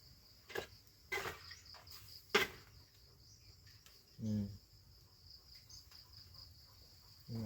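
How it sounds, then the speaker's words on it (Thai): A red cricket shown in a rural Thai setting, its chirps coming as a few short, separate bursts over a faint insect-filled background, with no talk. "อันนี้คือจิ้งหรีด"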